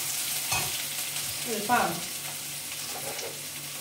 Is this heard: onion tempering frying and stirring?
yes